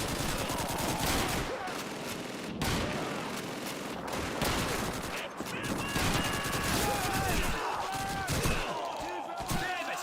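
Continuous heavy gunfire in a World War II style shooter game, rapid rifle and machine-gun bursts with booming impacts, dense and close, with shouting voices mixed in throughout.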